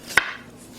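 A single sharp knife chop through a carrot on a cutting board, one close crisp knock that fades quickly into quiet.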